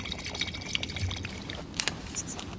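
Water pours and trickles steadily as canteens are refilled in the video game Life is Strange 2, a soft continuous flow with small splashes and no talking.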